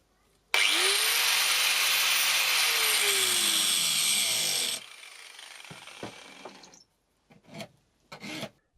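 A hand file rasps along a chainsaw chain in one long, loud continuous stroke lasting several seconds, followed by a few short, quieter scrapes and taps with brief pauses between them.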